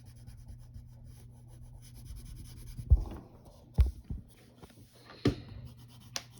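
Pencil shading on paper while drawing a cartoon character, a soft continuous rubbing scratch with a few louder strokes, close and quiet, with no talking.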